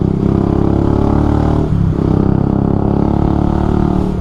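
A Bajaj Rouser 180 motorcycle with a loud aftermarket muffler revs hard and close, a steady throaty engine roar that dips briefly midway and then picks up again.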